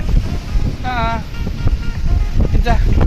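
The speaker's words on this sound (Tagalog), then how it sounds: "Kusog ka jud hangin" Strong wind gusts across the microphone at Quinale Beach in Anda, Bohol, a loud rumbling roar under scattered voices and brief bursts of chatter.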